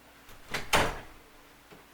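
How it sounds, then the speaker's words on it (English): A household door swings and shuts with a single dull thud close by, preceded by a brief rustle, in a quiet indoor room. "let me shut my door"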